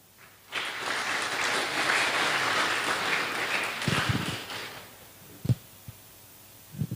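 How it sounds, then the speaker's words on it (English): Applause from a conference audience at an international agricultural and food science event, rising quickly into a dense, even wash of clapping that lasts about four seconds and then fades, followed by a few isolated knocks and handling thumps. "give big applause for her."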